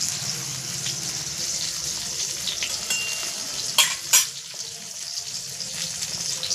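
Eggplant slices frying in hot oil in a covered pan, a steady bright sizzle throughout with a couple of sharp pops near the middle and faint kitchen clatter, no talking.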